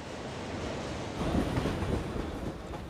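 Train running through Tokyo, a steady broadband rumble of rail cars that swells midway as carriages pass close, with no voices.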